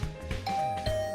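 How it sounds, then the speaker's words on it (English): A doorbell in the video game The Hundred Line: Last Defense Academy rings in repeated ding-dong chimes, several tones in quick succession, clear and alone. "Getting the hint that this assault on my doorbell would continue until I answered."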